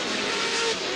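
Pro 4 off-road race trucks, among them the number 7 Amsoil truck, racing at the 2008 CORR Chula Vista event, with a loud, dense roar of engines and tires over a brief burst close by.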